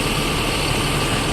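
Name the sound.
Laksana SR2 HD Prime bus engine idling at terminal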